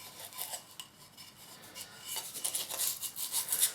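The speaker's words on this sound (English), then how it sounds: "just sand around the lip there and just feel everything to see if there's any sharp bits" Sandpaper rubs around the lip of a fired pottery piece in soft, quick, scratchy strokes that grow busier and a little louder toward the end.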